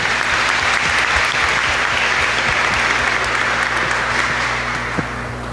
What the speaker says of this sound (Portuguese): Uma salva de palmas para as irmãs.